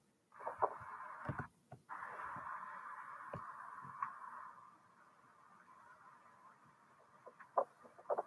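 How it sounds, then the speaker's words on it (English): Chicken clucking in short repeated bursts, moderately loud with a steady background hum, a few sharp knocks scattered throughout. "Let's take a look at this video of a bird."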